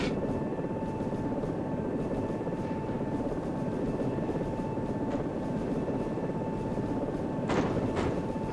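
Steady whirring rotor and engine drone of a helicopter landing in a video game, constant and fairly loud, with a couple of brief higher clicks near the end.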